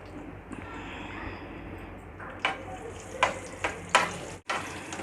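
Stuffed chillies packed with masala fry in a pan for a chicken dish, giving a steady close sizzle broken by several sharp clinks and scrapes of a utensil stirring, with no talk.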